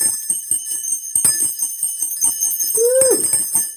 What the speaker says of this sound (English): Let's throw some bells.